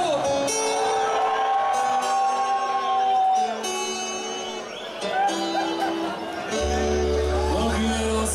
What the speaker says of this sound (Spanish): A ver el grito de los borrachos.